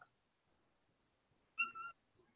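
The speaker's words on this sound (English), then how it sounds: "My cat literally hates me and never wants to be in my room, and now is crying out my door." A single faint, short meow-like cry comes from a cat outside a closed door, heard once against a quiet room.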